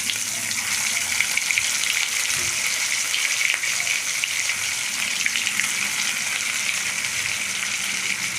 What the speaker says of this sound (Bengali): তেলটা গরম হলে ধোকাগুলো আস্তে আস্তে কড়াইতে ছেড়ে দিলাম গরম তেলে।